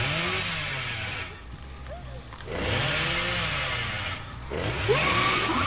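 Dead by Daylight chainsaw revving in repeated surges, loud sawing roar with wavering pitch, broken by short quieter gaps, then kicking up again near the end.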